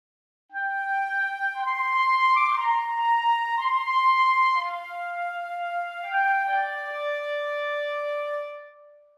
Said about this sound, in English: So three flutes and the clarinet solo playing at pitch.